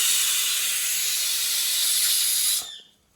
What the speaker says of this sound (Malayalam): കുക്കറിന്റെ പ്രത്യേകത ഇടക്ക് പൊന്തിച്ചേക്കണം